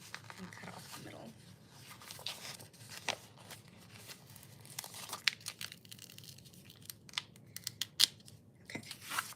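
Scissors or a blade cut the middle section off a cardboard box, giving faint, scattered snips, scrapes and crinkles at close range with soft background noise throughout.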